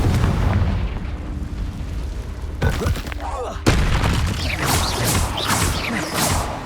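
A Confringo fire spell explosion in the Hogwarts Legacy video game sounds as a sharp, booming burst mid-clip amid rumbling combat effects and swishing magical whooshes, loud and close.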